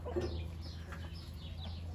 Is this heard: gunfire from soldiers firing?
no